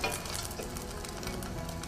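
Sesame crispy duck pan-frying slowly over medium-low heat, giving a steady, fairly quiet crackling sizzle with fine spattering pops that go on evenly throughout.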